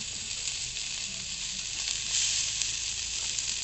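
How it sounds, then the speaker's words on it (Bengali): Chopped onions fry in oil in a pan for a Bangladeshi breakfast, giving a steady, fairly quiet sizzle with faint crackles throughout. "এখন আমি পেঁয়াজ কুচি দিয়ে ভেজে নেব"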